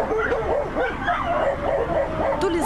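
Several dogs shut inside an old ZIL truck parked on a roadway bark and whine continuously, a dense, muffled chorus of yips and whimpers with no pause.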